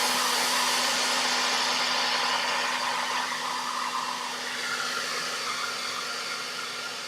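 A hair dryer blows steadily on a painted plant pot label, a loud, continuous broadband whoosh with a faint motor hum that holds for the whole stretch and eases slightly toward the end.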